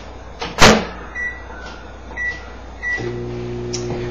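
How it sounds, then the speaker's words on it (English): A steady low microwave hum starts after a door clunk and a few beeps, running evenly and close by while heating peppers. "Let's put these in the microwave for about 40 seconds."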